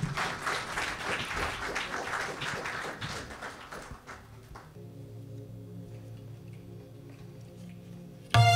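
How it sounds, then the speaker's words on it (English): Applause from an audience at a cultural celebration fills the hall for about four seconds, loud and dense with scattered individual claps, then cuts off abruptly, leaving a quiet sustained tone and a short sharp knock at the end. "A round of applause for our artists."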